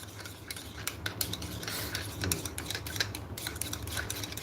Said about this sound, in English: I'm stirring the palm sugar.